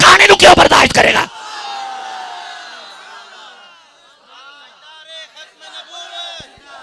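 A large crowd at a religious gathering chants slogans in loud, rhythmic bursts for about a second. Quieter tonal voices and scattered sounds follow.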